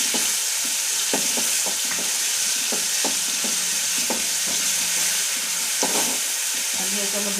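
Browned onions fry with ginger-garlic paste, cumin and mustard seeds, a constant close sizzle and hiss overlaid by frequent clattering stirs of a spoon in the pan.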